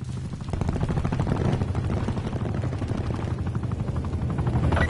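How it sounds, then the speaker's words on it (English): An attack helicopter in a first-person shooter video game thrums with a steady rapid rotor chop, loud and continuous throughout, with no talk. "Hostile attack chopper inbound."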